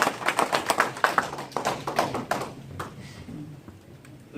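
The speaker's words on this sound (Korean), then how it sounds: "박수!" Audience applause at a political candidacy announcement for Gyeongbuk governor, a burst of sharp, close claps that fades away after about two and a half seconds.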